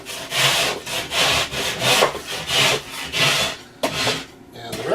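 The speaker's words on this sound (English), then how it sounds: "just take a drywall rasp and get the last of that off" A drywall rasp filed back and forth across a drywall edge in regular rough strokes, about six close, loud scraping passes with short pauses between.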